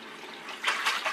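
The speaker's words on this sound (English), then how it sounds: "I'm going to lower this colander of black-eyed peas in there and bathe them around in it." Black-eyed peas rinsed in a colander lowered into a bowl of water, giving soft splashing and trickling bursts that grow stronger toward the end, close and fairly quiet with no talk.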